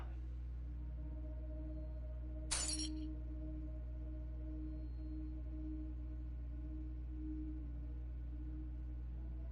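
A single sudden crash of breaking glass cuts through a quiet room with a low electrical hum, a brief bright shatter with a short tinkling tail, then only the hum remains.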